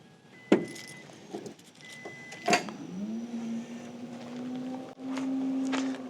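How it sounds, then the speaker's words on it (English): Front trunk of a Chevy Silverado EV electric pickup opening, with a few sharp clicks and jangles followed by a smooth motorized whir that rises and holds steady, close and fairly quiet. "Let's go ahead and open the front trunk here."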